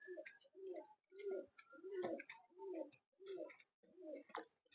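Pigeons in a loft, including Giribaz birds, give repeated soft, throaty coos in regular phrases, close and clear against a quiet background.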